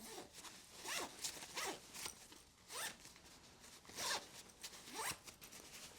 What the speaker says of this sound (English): It was very easy to pull the zippers closed.